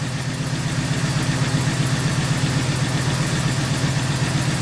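An Oldsmobile 455 V8 runs steadily just after starting, a close, even idle with a low rhythmic throb and no voices.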